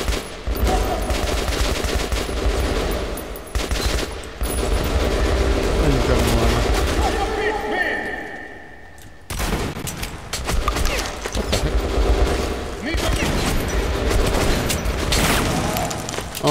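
Double-barrel shotgun blasts and other gunfire ring out in Metro: Last Light, loud booming shots in bursts with brief gaps and a short lull in the middle, mechanical clatter between them.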